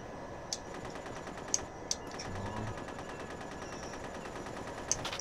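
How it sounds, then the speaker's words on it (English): Anti-aircraft guns in the World War II naval game Pacific Storm fire a few sharp, isolated shots against a steady droning aircraft engine, the cracks spaced irregularly and fairly faint. "Whoa, AA guns."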